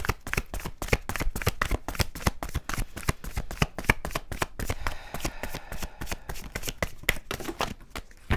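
Tarot cards being shuffled in a long run of quick, crisp riffling flicks, steady and close throughout with no talk over them.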